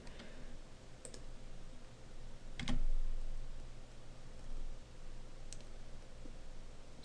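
Computer keyboard keys pressed while entering room types in ventilation calculation software, a few faint, sparse clicks with one slightly louder cluster over a quiet room hum.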